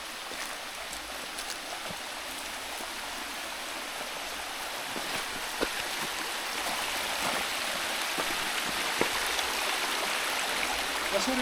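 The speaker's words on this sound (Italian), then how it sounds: "Adesso arriva giù acqua dappertutto." Mountain spring water flowing steadily outdoors near an alpine hut, a continuous broadband rush with small splashy ticks throughout and no talking.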